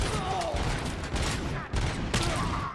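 A heavy machine gun fires in a dense, continuous rattle of rapid shots in the Robocop: Rogue City video game, loud and unbroken, with a few sharper bangs.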